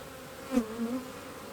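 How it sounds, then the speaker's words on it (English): Low, continuous buzzing of many nurse bees close up in a plastic Apimaye hive, swelling briefly in the middle before settling back to a steady hum. "These are all nurse bees attending to the babies."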